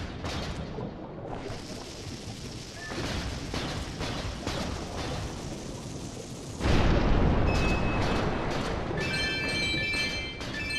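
Bomb explosions in Twilight Princess HD, a run of booming blasts and crashes with a louder burst near the end followed by bright chiming tones, no voices.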